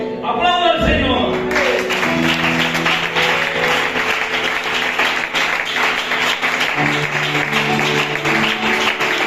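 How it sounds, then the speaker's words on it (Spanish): A church congregation applauds the Lord after a sermon, steady clapping under a swelling bed of sustained music-like tones, starting with a brief burst and carrying on evenly at a loud level. "¡Aplauda al Señor!"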